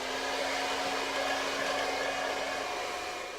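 Hair dryer blowing warm air on a dog after its swim at a canine hydrotherapy salon, a steady loud whooshing hum held throughout and easing off slightly at the end.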